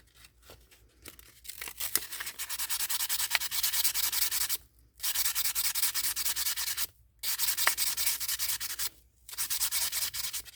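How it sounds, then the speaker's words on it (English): A resin casting is rubbed with sandpaper by hand, giving close, gritty scraping in sustained bursts of about two seconds. Short silent gaps separate the bursts, with no voices. "before I started sanding where the holes were"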